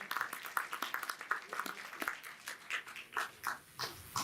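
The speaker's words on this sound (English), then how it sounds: "So a round of applause for our cartoonists" An audience at a comic con gives cartoonists a round of applause. Scattered claps come in uneven bursts, moderately close and fairly thin, rather than a dense roar.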